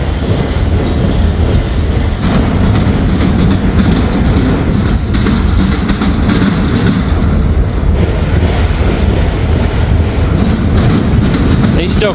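A train rolls steadily along the tracks for the whole stretch, loud and close, with rumbling wheels and clickety-clack over rail joints, wind noise mixed in.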